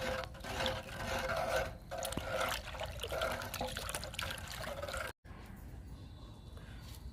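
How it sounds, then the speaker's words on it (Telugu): Water trickles and sloshes continuously as a groundnut cake fertilizer liquid is poured into buckets of water and stirred, then the sound drops to a quieter, softer swirl near the end. "ఇప్పుడు ఈ లిక్విడ్ని వాటర్లో డైల్యూట్ చేసుకుందాము బాగా కలిసింది తిప్పాను"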